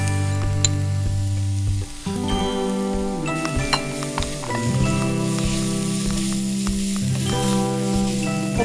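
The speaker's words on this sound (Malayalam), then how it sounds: "ഏകദേശം നമ്മുടെ ഉള്ളിയൊക്കെ ഒന്ന് വഴണ്ടു വന്നു" Onions sauté in a pan with garam masala, a dense steady sizzle with stirring scrapes over a musical background, loud and close, with no talking.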